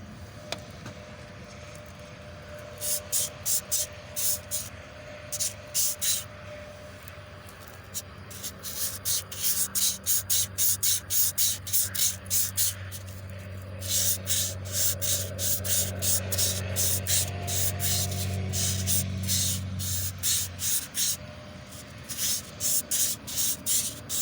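Medium grit emery cloth rasps rhythmically back and forth against a Chevy 350 small block camshaft, a close, steady run of rapid scrubbing strokes in bursts with short pauses, over a low background hum.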